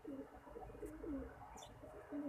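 Soft, low pigeon coos repeat in short, rolling phrases, faint and close in a quiet setting, with a few brief higher chirps between them.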